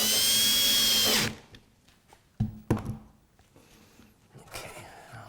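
A power drill drives a screw into a wooden benchtop tool chest in one loud burst of about a second, followed by quieter knocks and handling taps as the piece is set in place.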